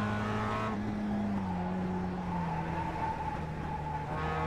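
A Mazda MX5 racing around Charlotte Motor Speedway in the iRacing game on worn tyres gives out a steady engine drone and a sustained tyre squeal that bends and wavers in pitch, loud and continuous with no talk.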